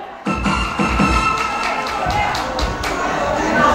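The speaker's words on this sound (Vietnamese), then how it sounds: "Trân trọng kính mời và một tràng pháo tay thật nồng nhiệt." Wedding guests applaud as the bride's family steps forward to speak: close, lively clapping from a crowd mixed with cheering voices and background music, sustained and fairly loud throughout.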